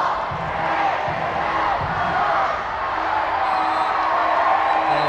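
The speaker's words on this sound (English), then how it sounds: "Crowd gives the countdown." A football crowd at QEII Park counts down to full time during an All Whites v Malaysia match, a loud, steady roar of massed voices with rhythmic chanted bursts and whoops filling the whole stretch.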